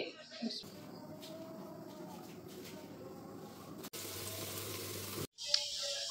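Steady crackling sizzle of food frying in oil runs for several seconds, briefly cutting out, with faint talk nearby.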